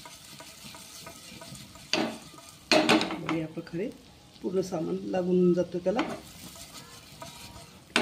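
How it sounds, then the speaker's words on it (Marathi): Potatoes coated in spice masala are sautéed and stirred in a pan for dum aloo, giving bursts of scraping and sizzling against the metal, with a voice talking briefly over it. "थोडंसं आपण 5 मिनिटं हे परतून घेणार आहोत। आलूला पूर्ण हे सगळं साहित्य लागलं पाहिजे।"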